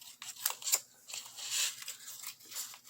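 Scissors trim paper for a Christmas mini album with several quick, close, crisp snips and rasping cuts in an uneven rhythm, and no talking.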